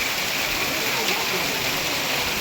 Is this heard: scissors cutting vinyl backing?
no